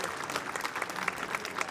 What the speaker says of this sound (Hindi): एक बार जोरदार तालियों से इनका स्वागत किया जाए